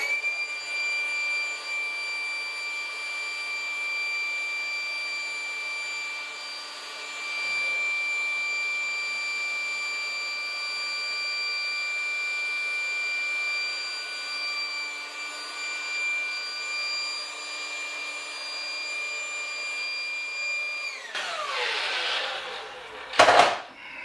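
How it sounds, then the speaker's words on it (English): An air blower runs with a steady, tonal whine for around twenty seconds, ending in a burst of rustling, rushing air. "let's give this one the old blower try and see how big it gets"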